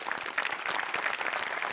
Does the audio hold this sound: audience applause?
yes